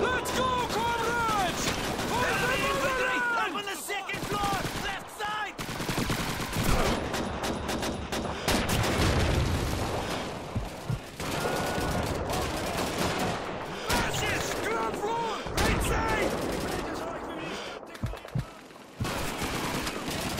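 Gunfire in the video game Call of Duty 2, with bursts of rapid shots, single cracks and heavier blasts running nearly nonstop at loud levels, and voices speaking over the battle.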